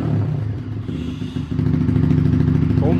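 A Honda Twister 250 motorcycle with a Fortuna exhaust rumbles with a deep, throaty note close by, its beat thickening as the revs rise.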